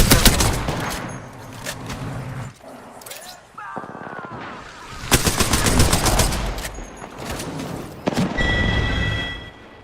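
Gunfire in a team battle-royale shooter, Apex Legends, with dense bursts of automatic fire and single shots, loud and close, and a shield-break chime among them, over game effects.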